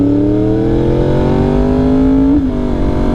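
A Yamaha R1 motorcycle with an SC Project CR-T aftermarket exhaust revs hard and loud up close, the engine note rising steadily for over two seconds before the throttle snaps shut and it drops back.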